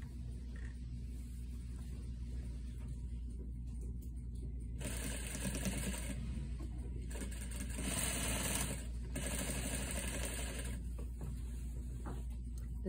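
Sewing machine edge stitching a shawl collar, a low continuous motor hum with bursts of faster rattling stitching that swell and ease over several seconds, close and moderately loud.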